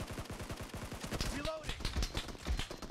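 Rapid automatic gunfire in the PUBG Mobile video game, a fast rattling run of close shots followed by a few heavier bursts, with game voices calling out over the firing.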